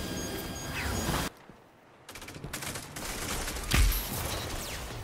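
Bursts of rapid SMG fire from the Adjudicator submachine gun in Destiny 2 game action, loud and close, broken by a brief quiet gap before firing resumes with a heavier impact near the end.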